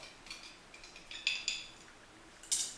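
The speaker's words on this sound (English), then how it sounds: "And stir that up with my magic swizzle stick that adds a little bit of magic to every cocktail." A swizzle stick stirs Flor de Caña 7-year-old Grand Reserve rum in a cocktail glass, giving a few light, bright clinks and taps against the glass spread over a couple of seconds.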